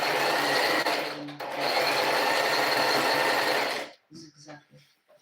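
A sewing machine running a zigzag stitch: a fast, steady mechanical whir close by for nearly four seconds, then it stops abruptly and a few soft clicks and faint murmurs follow.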